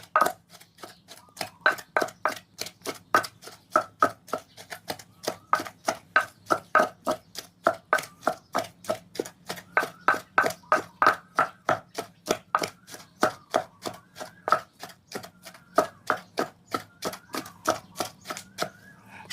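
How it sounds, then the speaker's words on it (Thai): Rapid, steady pounding of a pestle in a mortar, crushing ingredients for an Isan jackfruit soup with mackerel, dozens of close, crisp thuds in an even rhythm without any talking. "ตำบักมีตำเครื่องให้มันเข้ากันเลยครับ"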